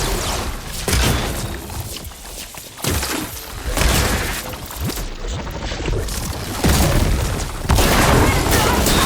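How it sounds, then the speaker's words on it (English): Loud booming detonations and crashing debris from combat in the action game Horizon Forbidden West, with repeated heavy impacts over dense rumbling noise and shouted voices mixed in. "Going to detonate!"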